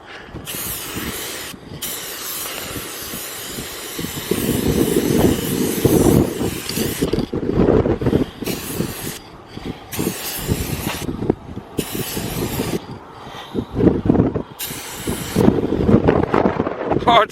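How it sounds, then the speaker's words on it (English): Strong gusting wind buffets the microphone outdoors at Cadillac Ranch on Route 66, a loud, continuous roar that surges and dips, with short bursts of spray-paint hiss and a few words of speech breaking through. "Oh, it's so windy"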